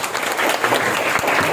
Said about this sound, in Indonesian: Beri tepuk tangan buat Marwa.